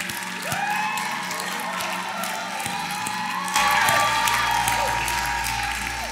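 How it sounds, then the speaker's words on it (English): A church congregation claps steadily for several seconds, a dense wash of applause with scattered cheers and whoops that swells louder toward the end. "Go ahead, clap your hands and thank Him."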